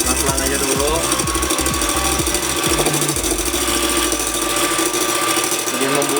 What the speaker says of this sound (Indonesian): sekarang kita bakal masuk ke adonan ketiga, yaitu putih telur. Sama, kita bakal kocok juga.